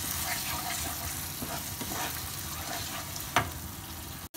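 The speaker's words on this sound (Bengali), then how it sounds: "এবার টক দইও আমি মশলার সাথে খুব ভালো করে মিশিয়ে নিয়ে একটু কষিয়ে নিচ্ছি।" A spice paste mixed with sour yogurt is stirred and fried for fish korma, sizzling steadily throughout with soft scraping strokes and one sharper clink near the end.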